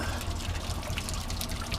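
Water flows from a 3/4 inch pipe in an aquaponics setup, a steady close trickling and splashing stream that runs continuously without pause, with no talking.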